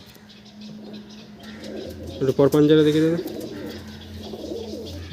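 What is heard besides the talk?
Saharanpuri Napta pigeon cooing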